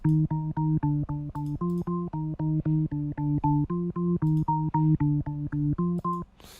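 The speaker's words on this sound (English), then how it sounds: "so you can see it's a jazz organ which sounds like this." A jazz organ patch from the Expand plugin plays short, evenly pulsed chord stabs in a steady Amapiano rhythm, clear and alone at moderate level.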